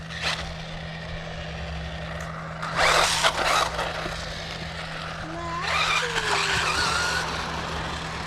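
A Suchiyu 16101 Pro RC car drives outdoors, its electric motor whining and tires scrabbling in a couple of short, louder bursts over a steady low hum, at moderate distance.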